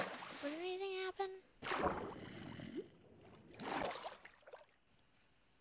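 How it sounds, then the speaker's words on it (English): A drowned water zombie in Minecraft gurgles and groans in a few short wet bursts, fairly faint, with watery splashing between them and a voice speaking at the start. "Did I just hear a drowned?"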